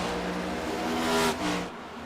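Ford Mustang Dark Horse race cars at Richmond in a racing game, engines droning steadily with a brief swell as one passes close, then fading slightly; no talking.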